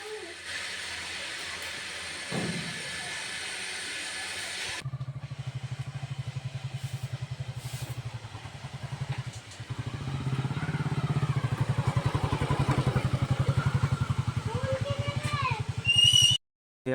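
A motorcycle engine starts up and idles with a steady low rumble, then revs and runs louder toward the end as the bike gets under way, with brief higher whines over the engine.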